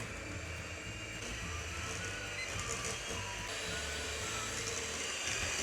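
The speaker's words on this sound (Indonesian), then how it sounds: "Sekarang kita mixer sampai tekstur margarinnya lembut" An electric mixer beats margarine until smooth, a steady whirring drone that runs unbroken throughout.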